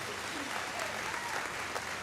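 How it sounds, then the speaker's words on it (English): Brief, steady applause from a crowd at a high school athletic awards ceremony, honouring the football team, with dense clapping filling the whole moment. "Give another round of applause to this group of guys who had a great season."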